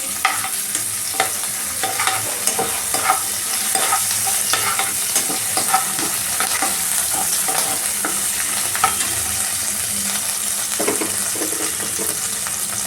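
Garlic paste sizzles and fries in a pan for palak bharta while a utensil stirs it, making a steady close crackling hiss broken by repeated scraping stirs, with no talking.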